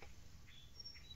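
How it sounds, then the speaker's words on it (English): Faint, distant bird chirps, a few brief high calls over quiet outdoor ambience. "you can hear some birds in the background"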